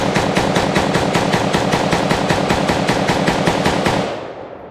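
A Taiwanese T91 carbine fires one long, rapid automatic burst of about sixteen evenly spaced, loud shots at an outdoor range, then cuts off abruptly as the echo fades.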